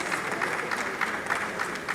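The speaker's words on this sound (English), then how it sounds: "Please let us give a resounding applause as we celebrate His Excellency Professor Babagana Zulum, Executive Governor of Borno State." An audience gives resounding applause in honour of Borno State Governor Professor Babagana Zulum at a National Social Safety Net coordinating event. The clapping is a steady, dense wash that holds at an even level for the whole short stretch.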